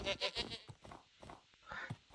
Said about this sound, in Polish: To są kozy.